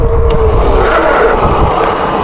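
Young Electric E-Scout fat-tire electric mountain bike braking hard from about 19 mph, a loud close rushing scrub of tires and brakes with a squealing tone, steady for two seconds.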